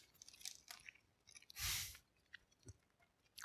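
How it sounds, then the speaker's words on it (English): Someone chews very sour Japanese gummy candy, with quiet, soft squishy mouth clicks and one louder burst of chewing near the middle of a short, close-up stretch. "You'll forgive the chewing."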